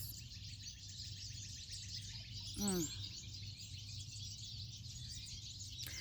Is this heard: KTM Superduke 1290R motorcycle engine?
no